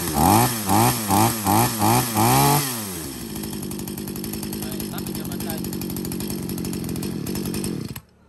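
Japanese-made Echo gasoline chainsaw, revved in six rhythmic bursts, then settling into a steady loud close-up idle before cutting off abruptly.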